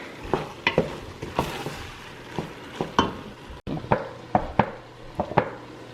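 Beans sizzling in a pan with tomatoes and garlic, with a steady frying hiss under a series of sharp scraping and clacking stirs, spaced irregularly and close by.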